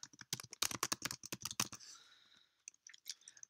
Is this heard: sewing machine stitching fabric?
no